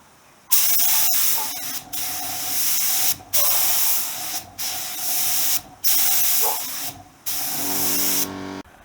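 Repeated bursts of spray paint applying white details to a Honda CB125 fuel tank, each hissing spray lasting about a second with brief pauses between, close and fairly loud, ending with a low hum.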